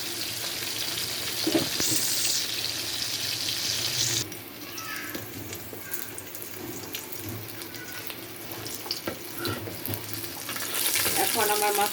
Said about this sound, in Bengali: মাছটা ভাজা হতে থাক